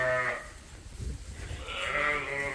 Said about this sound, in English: Look at the lambs in here this morning.